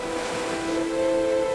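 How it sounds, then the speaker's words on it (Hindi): Sea waves washing onto a beach in a children's cartoon, a continuous loud surf wash with a steady tonal hum underneath, no talking. "ये लहरें कितनी मजेदार हैं।"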